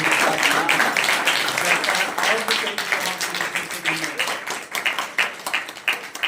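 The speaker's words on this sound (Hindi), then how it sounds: "आइए यीशु मसीह के जोरदार तालियां बजाते" A church congregation claps loudly, a dense burst of hand claps that thins and becomes more uneven toward the end, with a voice speaking over it.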